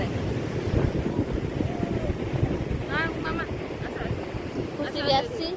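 Waves washing ashore at Puri beach with gusty wind buffeting the microphone, a steady surf roar throughout, with faint voices and brief whistly sounds in the latter half.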